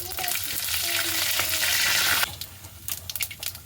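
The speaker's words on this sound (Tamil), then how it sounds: "அதுக்கு அடுத்ததாக இஞ்சி பேஸ்ட்டை போட்டுக்கொள்ளுவோம். போட்டு ஒரு வடிவாக கிளறி விடுவோம்." Ginger paste sizzling loudly in a hot pan, a dense, steady frying hiss that cuts off sharply partway through, followed by a few scraping stirs of a spoon, close up.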